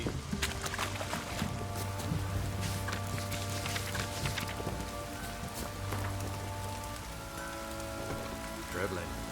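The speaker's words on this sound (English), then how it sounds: "This downpour's a bastard" Heavy in-game downpour in The Witcher 3 fills the scene with a dense, steady hiss of rain drumming on surfaces, with low background drone and faint scattered clatter beneath it.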